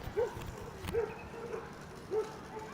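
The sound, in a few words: dog barking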